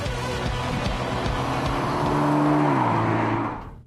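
A Mercedes-Benz A45 AMG drives past under power, its engine note rising and then dropping as the car sweeps close by, loud and brief with no speech.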